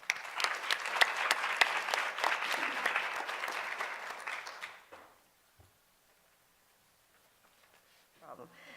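A conference audience applauds to welcome panelists, with steady, close clapping from a sizeable crowd for about five seconds before it fades to near silence and a voice begins faintly.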